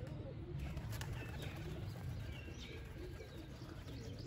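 Pigeons cooing softly at a rooftop loft while a hawk threatens the flock, faint low coos over steady outdoor background noise with occasional light chirps.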